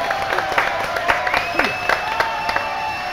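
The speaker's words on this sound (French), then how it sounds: "on l'applaudit aussi" Brief studio audience applause for a singer on a French TV show, with scattered sharp claps and a tone running underneath, short and fairly close.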